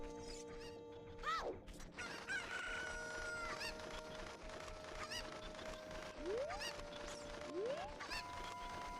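Rooster crowing and chickens clucking in a Zelda video game, several stretched crows rising and falling over a busy bed of game sounds and mechanical effects, with no talk.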